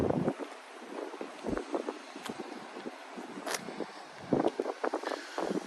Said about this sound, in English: So it's fairly windy today.